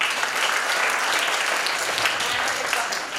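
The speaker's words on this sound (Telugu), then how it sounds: "గట్టి క్లాప్స్ కొట్టండి" Loud, dense applause from a large audience at the 8th anniversary celebration of a Bhagavad Gita study group, sustained evenly throughout with no break.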